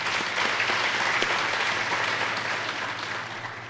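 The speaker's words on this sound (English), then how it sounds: "let's give them a round of applause, please." Applause from the audience at a university commencement ceremony, a sustained wash of clapping from a large crowd that fades slightly toward the end.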